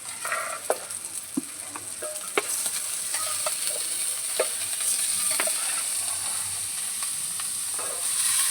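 Rice stirred into frying spices for a home-style biryani made with everyday rice, steady sizzle with repeated scraping and clinking strokes of a spoon against the pot, close and fairly loud, no talking.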